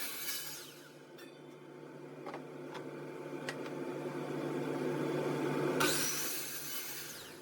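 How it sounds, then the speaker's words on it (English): A bandsaw cutting through a board, with a steady motor hum and a whining blade that grows louder as it works through the wood, then spins down toward the end. "Once I get them traced onto the board, I cut out that section to take to the bandsaw."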